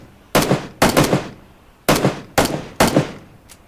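Gunfire in the battle-royale shooter PUBG Battlegrounds, five sharp close shots in uneven spacing, each with a short ringing tail, then a faint click at the end.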